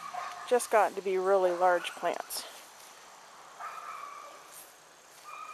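Dogs barking excitedly near an Ontario vegetable garden, a quick run of yips and whiny barks that fades into quiet outdoor background, while a person talks over the start.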